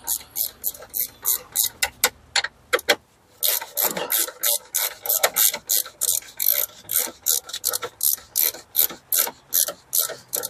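Ratchet wrench tightening a battery terminal on a 2012 Hyundai Tucson outdoors in the cold, a loud, rapid series of sharp clicks in repeated strokes with a brief pause.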